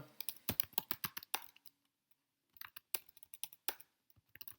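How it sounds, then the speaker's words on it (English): Quick bursts of keystrokes on a computer keyboard as a baseball card name is typed into a search box, close and crisp, with a brief pause midway before the clicking resumes. "So we're going to type in Geraldo Perdomo, Bowman"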